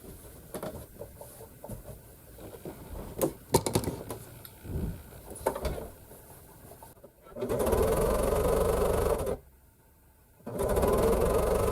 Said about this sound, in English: I was just sewing and sewing and sewing pieces together